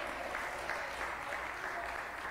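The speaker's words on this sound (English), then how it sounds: "let's give the Lord a hand clap and pray" A church congregation clapping their hands, a steady wash of many claps in a continuous rhythm, moderately loud and even throughout.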